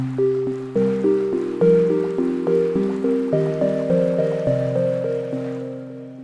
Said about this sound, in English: I'm going to show you how to create an organic Pluck sound using Massive